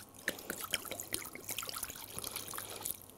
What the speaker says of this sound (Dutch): Giet even het hele flesje erin.